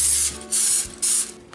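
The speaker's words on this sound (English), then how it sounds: "now we'll just spray our other heart pan." Three short bursts of cooking spray hiss onto a heart-shaped baking pan, each about a quarter second, with brief pauses between, close and fairly loud.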